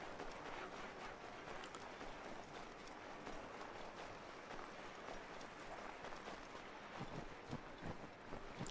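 Water in Assassin's Creed III Remastered makes a steady hissing, burbling wash that runs on without pause, close and fairly even in level, with no one talking.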